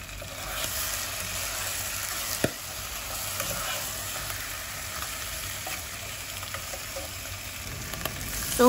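Kare-kare ingredients with a pork cube sautéing in a pan, a steady soft sizzle running quietly throughout with a faint clink or two and no talking.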